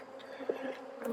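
Bees buzz around packed hive frames in an apiary during fall beekeeping, a brief, soft, continuous drone of insects heard close by.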